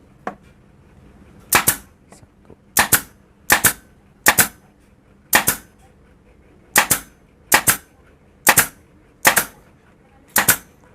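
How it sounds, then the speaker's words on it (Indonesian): A pneumatic nail gun powered by a Mollar Black Panther compressor fires nails in sharp, loud snaps, mostly in quick pairs at a steady pace, with quiet gaps between shots. "Kita akan hitung kira-kira untuk satu cycle pengisian ini bisa menembakkan paku tembak ini berapa jumlahnya ya."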